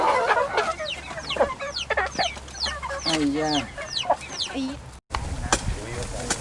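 Farm chickens clucking and squawking close by in a busy, overlapping chorus, with a brief voice speaking partway through.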